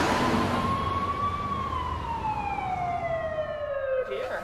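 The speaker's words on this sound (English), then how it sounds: "the ambulance is here" An ambulance siren wails loudly and continuously nearby, its pitch rising briefly then gliding steadily downward as the vehicle passes.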